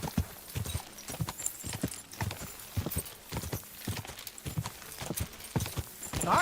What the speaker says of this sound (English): Você não tá vendo um cavalo andando